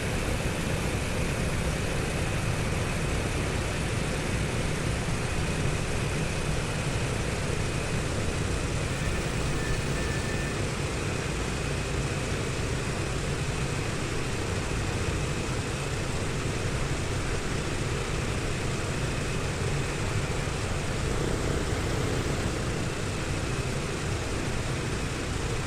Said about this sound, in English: Hear that jet coming up behind us.